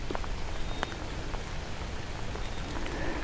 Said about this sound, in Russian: потому что идет этот, Коля, дождина